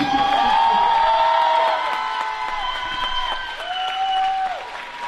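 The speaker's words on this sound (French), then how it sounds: "On peut les applaudir" Festival crowd at the Mang'Azur manga festival clapping and cheering, with sustained high whoops and shouted tones riding over a softer bed of applause, fairly loud and close throughout.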